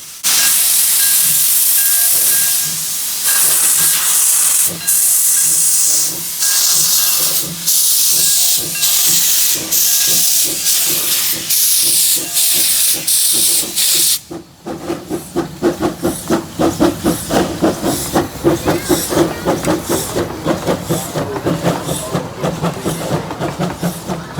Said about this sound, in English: The rain was causing significant wheel slip.